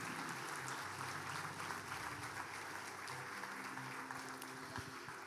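Church congregation applauding during a sermon, a fairly quiet, continuous patter of many hands clapping with low droning tones from instruments or amplification underneath.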